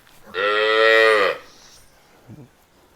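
A single loud, close moo from a Gir cow lasting about a second, followed by quiet with a faint brief grunt.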